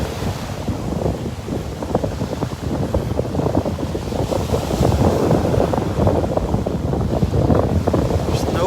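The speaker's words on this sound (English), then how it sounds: "I listen to the sounds of the waves and feel the wind blowing on me." Ocean waves wash onto a beach in North Naples, Florida, as a steady roaring surf mixed with gusty wind buffeting the microphone, loud and continuous for the whole stretch.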